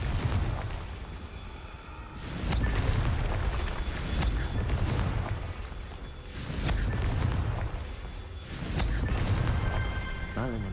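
A Confringo fire spell goes off in Hogwarts Legacy, a blast with deep booming low end that swells and fades in repeated surges over a rumbling, busy game background.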